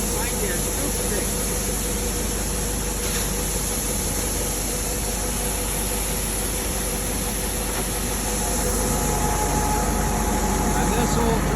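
An old Case tractor engine idles at a wheat harvest, a steady, unbroken low drone with a constant mechanical hum that holds level and fairly loud throughout.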